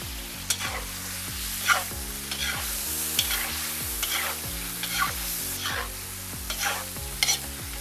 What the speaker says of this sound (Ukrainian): зразу після м'яса в суміш кип'ячих двох масел закладаю цибулю, яку досить крупно нарізав